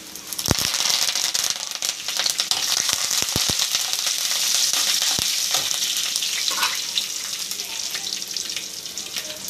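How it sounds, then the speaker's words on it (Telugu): Chopped onion sizzles loudly in hot oil with dried red chillies and curry leaves for a Telugu carrot fry, a continuous close frying hiss broken by sharp stirring clicks from a spoon in the pan. "ఉల్లిపాయ ముక్కలు కూడా వేసుకొని బాగా వేగించేసుకున్నాము"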